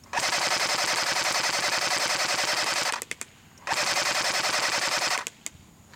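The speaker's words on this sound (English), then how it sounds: "let's go ahead and shoot the A&K M60VN" An A&K M60VN airsoft machine gun fires BBs at a target 55 feet away in two sustained full-auto bursts of rapid, even clatter, each about three and one and a half seconds long, with a short pause between.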